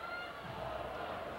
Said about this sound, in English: The crowd chanting goalposts.